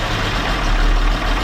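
A BMW E36 track car engine idles right after its first start, a loud, steady low rumble close by, with no talking over it.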